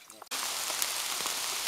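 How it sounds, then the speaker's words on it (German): Heavy rain shower pouring down in the Palatinate Forest, a dense steady hiss of drops on leaves and surfaces that starts abruptly after a brief moment of quieter talk and stays loud and constant. "Aber ein ganz schöner Schauer, der hier runterkommt."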